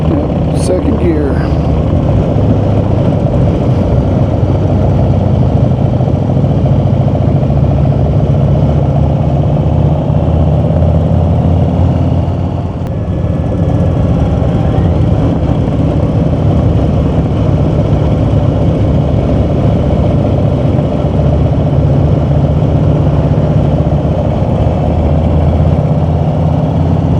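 A car engine hums steadily in second gear on a Colorado mountain road drive, a loud continuous low drone with road noise throughout while people talk over it.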